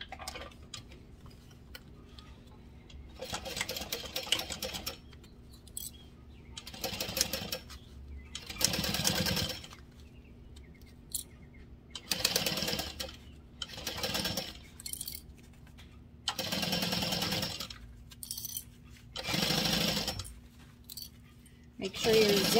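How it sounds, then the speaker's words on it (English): A sewing machine stitches around fabric curves for a zippered sling bag at a 4 stitch length and quarter-inch seam, running in several separate whirring bursts broken by quiet pauses. "we're gonna go to the sewing machine and stitch around"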